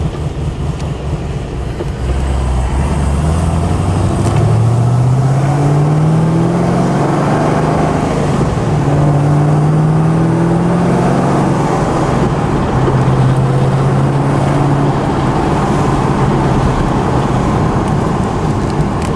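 Car driving after a fuel tune done with HP Tuners, running slightly richer: a steady engine drone with rising and falling pitch as it accelerates and shifts through gears, heard from inside the cabin.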